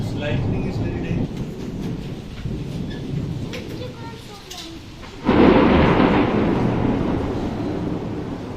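Thunder rumbles through a rainstorm in Qatar, with steady rain hissing throughout and a louder burst of rolling thunder and heavier downpour about halfway in; a voice is briefly heard.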